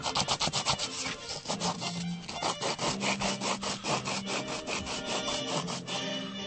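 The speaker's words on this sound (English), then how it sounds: "I can sand the back down just a little bit" A wooden part is sanded by hand across its back, producing close, steady, rapid back-and-forth rubbing strokes in a brisk rhythm with no talking.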